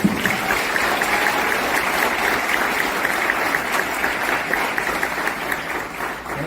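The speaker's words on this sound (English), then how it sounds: "I'm going to ask for another round of applause for Robbie Hirsch" Audience applause at a CPA Titans awards ceremony for a player, a dense steady wash of many hands clapping at even loudness throughout, with no talking over it.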